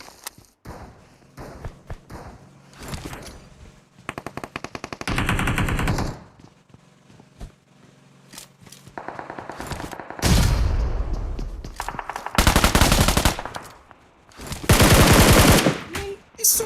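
Bursts of automatic gunfire from a weapon in the mobile battle royale game PUBG Mobile, played in a Global Championship league match: rapid rattling volleys, some long and loud, separated by quieter stretches of scattered single shots and thuds.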